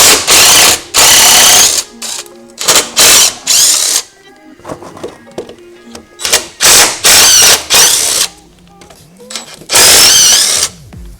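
Ratchet spinning out 14 mm bolts from the steering rack brackets on a Subaru, loud close bursts of rapid clicking ratcheting separated by pauses with quieter metallic handling.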